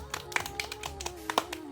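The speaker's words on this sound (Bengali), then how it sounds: "তো দীপের জন্য আবার জোরদার হাততালি।" A small group claps briefly for a child's dance at an Independence Day performance, scattered close claps over a low background hum with some voices.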